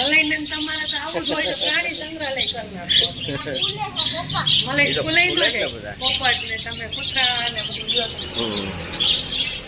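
A parrot squawks and chirps in sharp, repeated calls close by at a temple, mixed in with people talking over it.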